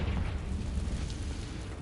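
A Confringo spell explosion in Hogwarts Legacy, a dense sustained roaring blast with heavy low rumble and crackle filling the whole moment, no talk.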